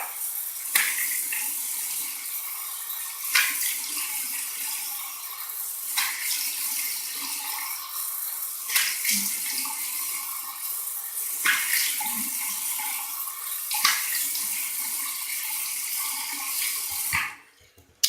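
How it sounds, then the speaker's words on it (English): Cold water runs steadily from a tap into a basin in a home bathroom, a close, continuous rushing stream with occasional louder splashes, stopping abruptly near the end. "I'm going to go cold water now."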